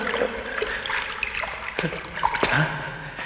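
Water trickles and drips through a secret tunnel beneath a fort, a steady, close watery flow with scattered drips and small splashes, no talk.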